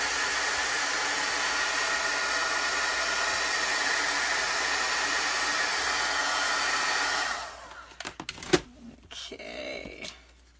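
A hair dryer drying chalk paste on a gingerbread craft piece, a steady loud broadband blowing that runs for about seven seconds and then cuts off, followed by a few soft handling knocks.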